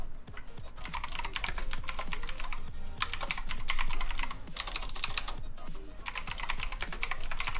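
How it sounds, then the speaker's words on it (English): A clicky computer keyboard is typed on in rapid bursts of crisp clacking keystrokes, close and loud, with brief pauses between runs of typing. "it's a very nice clickety-clackety keyboard"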